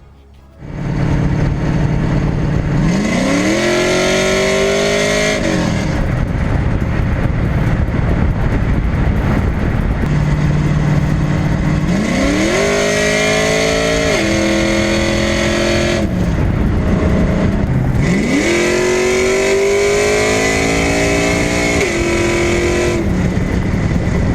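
An LS-swapped Chevrolet S10 pickup fitted with new Calvert Racing 90/10 shocks drives loudly and up close, its V8 engine rising through three strong acceleration pulls with gear shifts between them, with steady engine noise throughout and no talking.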